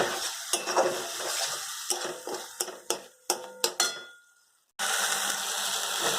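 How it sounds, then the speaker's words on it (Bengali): Spices with turmeric and chili powder fry in a pan while a utensil stirs and scrapes, giving a run of sharp metallic knocks over a hiss that fades and then returns as a steady sizzle. "এবার সব মশলাও দিয়ে এবার হলুদ গুঁড়ো, লঙ্কা গুঁড়ো দিয়ে ভালো করে কষিয়ে নেওয়া হবে।"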